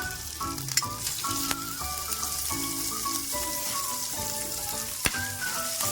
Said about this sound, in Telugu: ఆయిల్ వేస్తున్నా, ఫ్రై చేసుకుందాం. కొబ్బరి ఫ్రై చేసుకొని చేద్దాం.